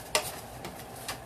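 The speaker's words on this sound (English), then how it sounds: "Alright, so let's stir that up." Garlic, pepper and meat are stirred in a greasy pan, three quick scraping strokes over a faint sizzle, close and soft.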